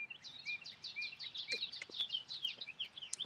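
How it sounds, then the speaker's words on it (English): Birds sing in the early morning in Indiana, a steady stream of high, repeated chirps and warbling phrases overlapping one another at moderate distance, with no talk over them. "Oh man, listen to the birds."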